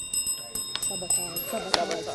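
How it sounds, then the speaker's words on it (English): An electronic bell rings to end a televised school quiz match, a bright repeating tone pattern sounding over a person talking. "that's the final bell."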